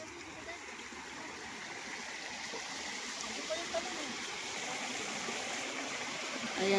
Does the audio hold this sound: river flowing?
yes